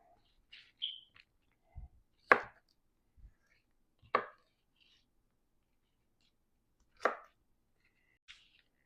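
Sharp, isolated knife strikes on a cutting board while vegetables such as zucchini are sliced for a veggie pie, five distinct chops spaced irregularly with quiet gaps and faint small clinks between.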